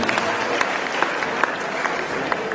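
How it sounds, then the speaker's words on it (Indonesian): An audience at a student motivation day applauds in a dense, continuous burst of many hands, loud and close with scattered sharper claps. "Tepuk tangan dulu untuk kita semua yang ingin hidupnya bahagia."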